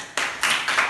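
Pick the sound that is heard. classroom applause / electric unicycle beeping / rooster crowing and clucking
classroom applause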